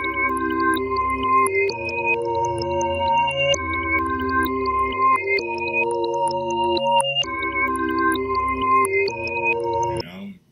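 A reversed audio sample chopped and played back in Reason 10, with layered sustained tones and swelling harmonic notes running steadily throughout, loud and alone, cutting off abruptly at the end.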